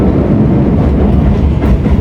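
A Keisei Railway train runs at speed with a loud, continuous rumble and rattle of wheels on track, heard close up from onboard and without voices.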